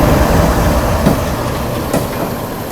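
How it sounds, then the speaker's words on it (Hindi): A goods train hauled by a WTG4 locomotive rushes past alongside a moving Superfast Express, with loud continuous rumble and wheel clatter, brief clacks and a faint wheel squeal, no voices. "सामने से किसी गाड़ी के साथ अपनी क्रॉसिंग भी हो रही है"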